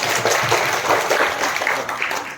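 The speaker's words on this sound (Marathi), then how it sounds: "यांच्यासाठी जोरदार टाळ्या वाजवा" Audience applause at a school general-knowledge quiz competition, a steady wash of many hands clapping at once for a couple of seconds, close and fairly loud.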